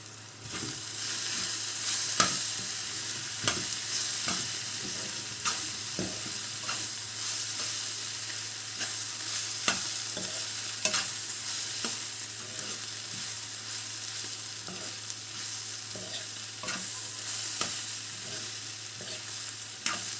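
Cabbage and potato fry is stirred in a pan, with repeated scraping strokes of the spoon over a constant soft sizzle and no talking.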